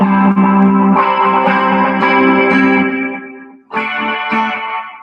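Chord-based instrumental passage through an 80s chorus effects preset, drenched in a lush, swirling chorus effect with a retro eighties sheen, loud and sustained, dropping out briefly before resuming.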